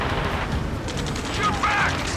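Continuous dense gunfire and battle noise roar through a mission in the Ace Combat 7 video game, loud and unbroken, with radio voices shouting over it.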